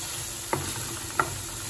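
Sofrito base for black rice with cuttlefish and mussels, wine cooked off, sizzling steadily in a pan, with two brief scrapes of stirring, close and alone.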